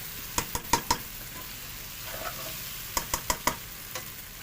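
Okra frying with onion in a pan for a spicy bhindi fry, a soft steady sizzle under repeated sharp clinks of a spoon stirring against the pan in short bursts, close by.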